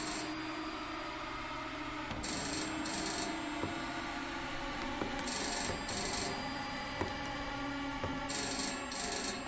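A telephone rings in a video game trailer, sounding in three bursts of repeated trills at regular intervals over a dense, rumbling background.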